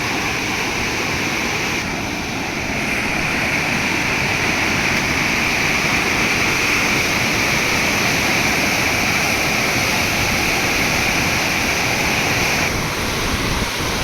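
A flooded village river surges wildly, a loud, constant roar of rushing water that fills the whole stretch without letup, close and unbroken.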